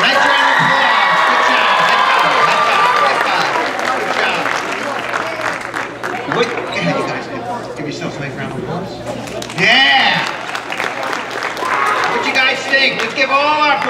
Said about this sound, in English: Let's give all our performers a nice round of applause.